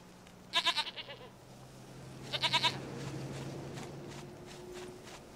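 Two separate quavering bleats from a goat in The Witcher 3: Wild Hunt, each a fast-trembling call, the second a little softer, with faint hoof-like steps and low ambient hum between and after them.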